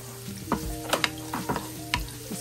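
Garlic sautés in a pan for chicken curry, a steady close sizzle broken by repeated scraping stirs of a utensil against the pan.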